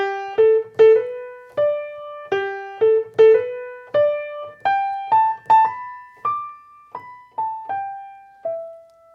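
Solo piano plays a melody with slip notes, quick grace notes sliding into main tones, heard as crisp paired strikes in a slow, even waltz, close and unaccompanied.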